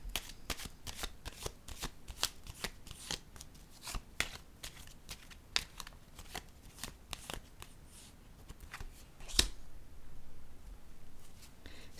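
Tarot cards are handled and laid down at close range, giving a quiet run of crisp snaps, flicks and slides with one sharper slap, and no talking.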